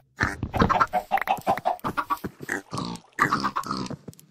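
A rapid series of high, chirpy peeping calls from chicks in a survival video game, close and fairly loud, coming in quick bursts with brief pauses.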